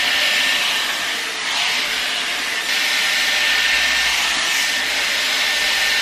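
A Dyson Airwrap hair styler blows a loud, steady rush of air while drying hair, a close continuous hiss with slight dips as it moves, no talking.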